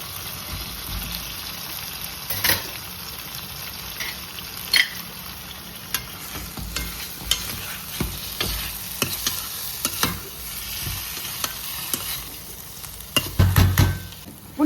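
Boiled, chopped potatoes stirred and fried in oil with roasted masala, with continuous sizzling and scraping stir strokes at close range, some louder clatters toward the end and no talk.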